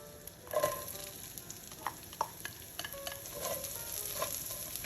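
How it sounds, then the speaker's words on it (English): Onions sautéing in butter in a brazier pan, a soft steady sizzle broken by occasional stirring scrapes and light clinks, close and fairly quiet with no talking. "Using the same brazier, I'm gonna add my butter, and I'm gonna saute the onions right now."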